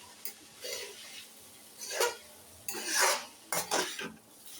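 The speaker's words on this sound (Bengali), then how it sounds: "নুডলসটা দিয়ে একটু নাড়াচাড়া করে দিলাম যাতে নুডলসটার সাথে" Noodles mixed with spices are stirred in a pan, giving several separate bursts of scraping and clinking between quiet pauses, close and fairly soft, with no talk.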